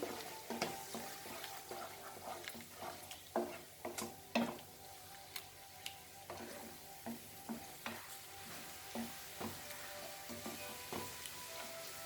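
A curry mixture with lime juice is stirred in a pan, making faint, irregular scraping and tapping strokes over a low, quiet sizzle.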